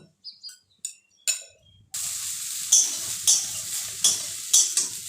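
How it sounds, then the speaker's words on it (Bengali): Soybean chunks frying in a pan, a few scrapes and clinks of stirring at first, then a steady close sizzle with repeated stirring strokes over it. "ওদিকে সয়াবিনটা দেখো ভাজা হয়ে গেছে"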